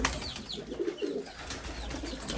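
Pigeons coo in a loft, soft low burbling calls that come and go close by, over a steady background hiss with no talking.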